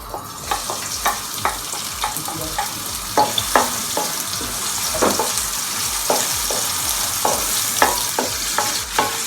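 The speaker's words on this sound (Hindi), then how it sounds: "तेल हमारा अच्छा सा गर्म हो जाए तो फिर हम इसके अंदर रफली चॉप किया प्याज डाल देंगे" Roughly chopped onion fries in hot oil in a kadhai for chicken korma, with a steady sizzle under rhythmic spoon scrapes and stirring knocks close by, no voices.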